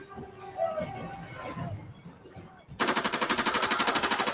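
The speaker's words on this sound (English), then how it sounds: "She's firing a machine gun." Machine gun fire in the dinosaur film Kingdom of the Dinosaurs: after muffled movie sounds and voices, a loud, rapid, steady burst of shots rattles on to the end.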